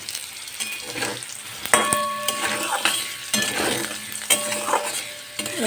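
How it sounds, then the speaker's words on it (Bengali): Whole spices (phoron) frying in hot oil in a pan while being stirred, with a continuous crackling sizzle and repeated metal spatula scrapes and clinks against the pan, close and fairly loud. "এবার এই ফোড়নগুলোকে একটু লাল লাল করে ফ্রাই করে নেব"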